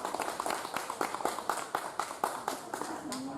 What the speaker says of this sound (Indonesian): Tepuk tangan dulu untuk Mas Teddy dan kawan-kawan.